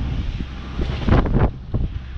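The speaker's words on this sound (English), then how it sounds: "the conditions out here are pretty windy. We're getting up to gusts of 23" Strong wind gusts buffet a boat at sea in rough, confused conditions, a steady low roar rising into louder surges in the middle before easing back, with water noise beneath.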